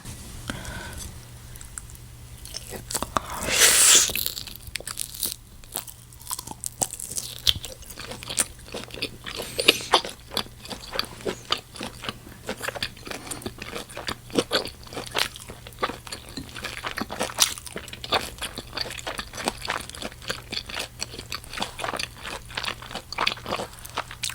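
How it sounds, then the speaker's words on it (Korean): Close, wet chewing and biting of Korean LA galbi beef short ribs, a steady run of crunchy mouth sounds and soft smacks with no talking. "제일 먹고 싶었던 LA 갈비 먼저 먹어볼게요."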